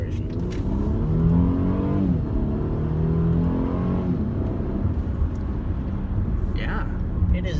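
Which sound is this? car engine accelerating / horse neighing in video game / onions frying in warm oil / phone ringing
car engine accelerating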